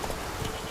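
Galloping horse hooves from The Witcher 3 video game, a short, quiet burst of rapid clip-clop beats under a soft steady wash.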